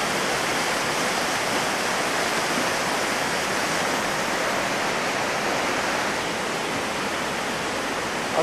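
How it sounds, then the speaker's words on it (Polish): Flowing water at the meeting point of two rivers near Szrenica in winter, a steady full rushing wash that stays constant and close throughout, with no talk over it. "A tutaj się schodzą dwie rzeki."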